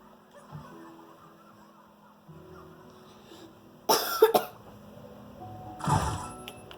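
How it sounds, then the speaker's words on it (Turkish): Two loud coughing fits close to the listener, the first a cluster of harsh coughs and the second a shorter burst, over a quiet hum, during Supraland gameplay. "öksürmenin adına özür dilerim."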